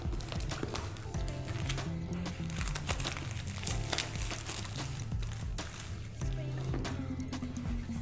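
Polythene plastic wrap is pulled off an Infinix S5 phone box, producing continuous close crinkling and crackling with sharp rustling bursts, steady and fairly loud throughout.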